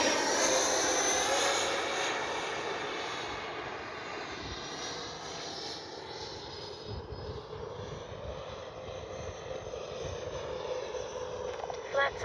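A Freewing MiG-29 Fulcrum twin 80mm EDF RC jet flies at a distance. Its steady, high-pitched ducted-fan whine holds throughout and shifts a little in pitch as the model passes overhead.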